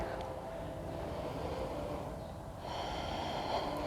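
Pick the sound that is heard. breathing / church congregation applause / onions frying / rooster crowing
breathing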